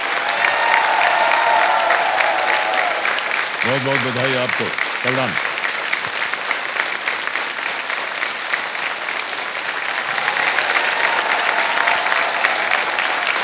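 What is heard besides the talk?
studio audience applause for contestant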